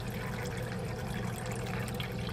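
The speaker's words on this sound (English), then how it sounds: "It's like when you're pouring things and you get past the phase where it's gurgling." Water pours steadily into a bomb calorimeter bucket, the flow past its gurgling stage and running as an even, continuous rush close to the microphone with no speech over it.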